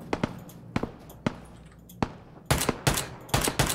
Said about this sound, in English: Oh, I'll shoot him now.